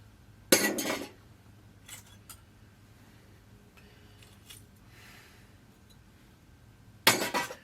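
Two sharp bursts of crunching, clinking glass debris, one near the start and one at the end, with faint scattered rustling in between.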